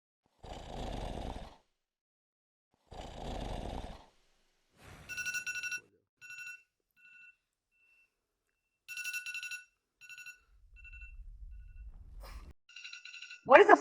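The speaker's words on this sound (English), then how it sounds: "Switch off the alarm." A phone alarm rings in the morning as repeated bright electronic tones in several bursts, between other short noises and bits of low rumble.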